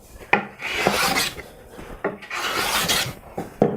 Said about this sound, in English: I'm taking a very thin, light slice until I get down to the surface.